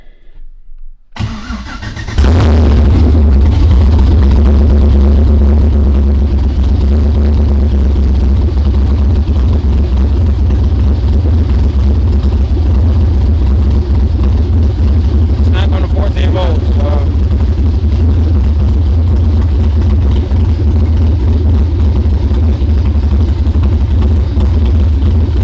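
A Nissan R32 GTR engine is cranked and catches, then settles into a loud, steady idle that rumbles on without a break, with faint clicks partway through.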